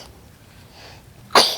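A single sharp human sneeze near the end of a quiet stretch, loud and close, following soft background noise.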